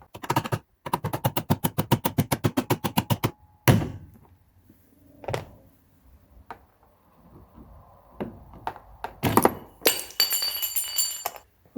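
Glass on a 1973-1987 Square Body Chevy Silverado vent window being rubbed and worked, with a quick burst of rapid tapping, then scattered clinks, thunks and scraping of glass and metal up close.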